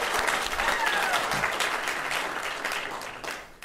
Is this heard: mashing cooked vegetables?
no